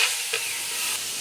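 A spoon stirs a mango pickle mixture in a pan over a very low flame, giving a soft, continuous sizzle and scraping with one brief louder scrape near the start.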